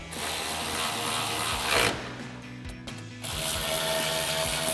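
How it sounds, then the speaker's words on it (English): A 10mm socket ratchet tightens bolts while factory-style LED headlights are fitted to a 2009-2018 RAM 1500. A loud, continuous mechanical whirring pauses for about a second and then resumes. "So now we can go ahead and tighten these up with our 10mm socket."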